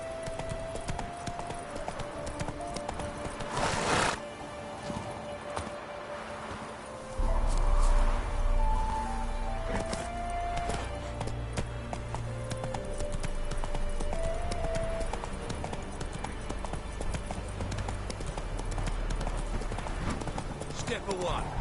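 A horse in The Witcher 3 game clip-clops along at a steady, rhythmic pace, hooves loud and close throughout, with a brief snort and people talking over it.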